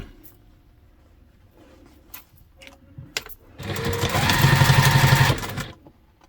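Sewing machine stitching the back gussets of a large packing pod travel bag, a steady fast mechanical run of about two seconds that rises after quiet handling noises and then stops.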